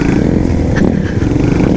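A sports motorcycle converted for dirt-trail riding rumbles loud and close, its engine running steadily with rough low-end chugging and clatter, no speech.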